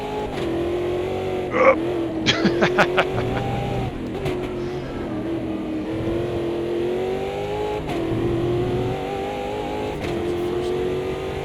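Race car engines in the sim game Automobilista, a steady droning engine tone with rising and falling revs and several short sharp bursts early on, moderately loud with no talk.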